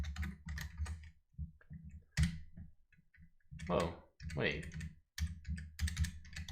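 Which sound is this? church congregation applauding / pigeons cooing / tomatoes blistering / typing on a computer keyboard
typing on a computer keyboard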